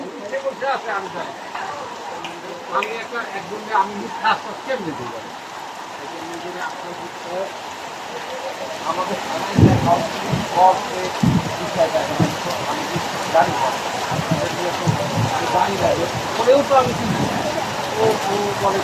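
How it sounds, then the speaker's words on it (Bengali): Heavy unseasonal downpour along the Dhaka–Barishal highway near the Sadar bridge area in Madaripur, a dense steady hiss of rain on surfaces with heavier drumming later, while someone talks over it. "দেখছেন যে প্রচুর বৃষ্টি হচ্ছে"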